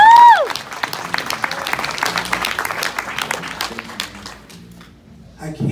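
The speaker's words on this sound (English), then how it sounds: "Can we give the Lord a hand clap of praise?" Audience at a pastor's anniversary banquet claps hands in praise, a dense burst of applause that rises, holds, then fades out near the end.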